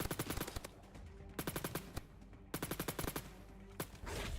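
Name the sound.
pistol gunfire (9mm) from a video game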